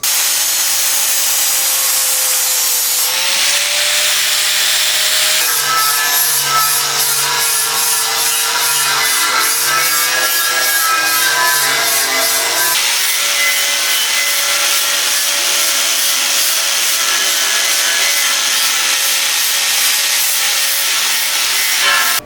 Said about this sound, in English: I'm going to go through with a flap disc and get all this mill scale off now